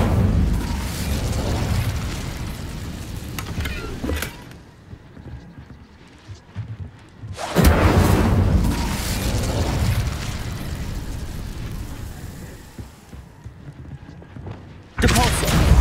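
Fiery spell blasts from the Incendio charm in Hogwarts Legacy roar out in loud, broad bursts, two long explosive whooshes separated by a quieter rumbling stretch, with a third blast starting at the end.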